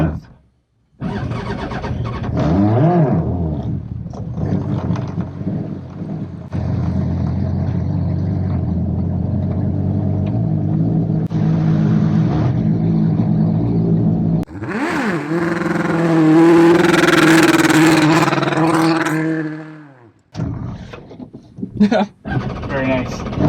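Engine of a modified Smart car revving hard in bursts, rising and falling with rough, loud peaks, then cutting off near the end, followed by scattered clunks.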